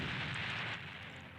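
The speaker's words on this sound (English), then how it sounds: "An explosion to let everyone know that there is a Time Skip Sasuke running rampant" A game explosion marking Time Skip Sasuke's transformation in Anime Battle Arena: a loud, broad rumbling burst filling the clip, fading slightly toward the end with no talk.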